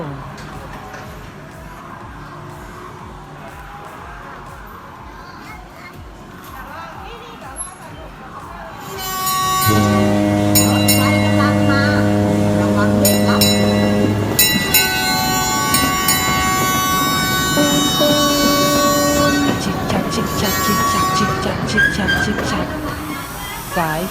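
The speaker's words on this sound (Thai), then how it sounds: "รถไฟมาแล้ว รถไฟมาแล้ว จะได้ขึ้นรถไฟจริง ๆ แล้ว" A quiet rumble gives way to a loud train horn blast and clanking, bell-like tones as a small amusement park train pulls in, with voices underneath.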